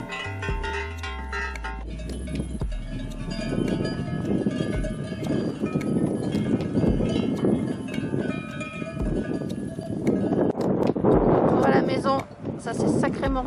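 Horses move about a farm pasture in strong outdoor wind, with steady wind buffeting over scattered hoof and animal sounds, while a bell clanks and people chat in the background.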